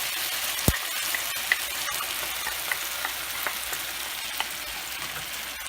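Chopped onions frying in a pan, a steady close sizzle with a few sharp clicks and taps of a utensil, no talking.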